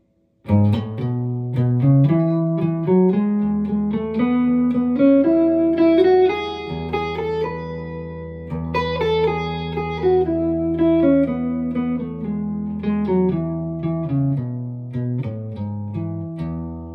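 An electric guitar plays climbing three-note sequences of single notes in short repeated groups in the C shape, clear and sustained, with a light effect on the tone.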